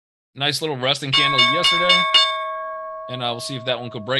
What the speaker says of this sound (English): that is the sound of the opening bell